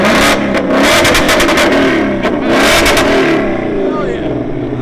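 A 2024 Ford Mustang GT with a 5.0L V8, Corsa Double Helix exhaust and muffler delete revs loudly and pulls away up close, its engine roar swelling in bursts while people talk over it.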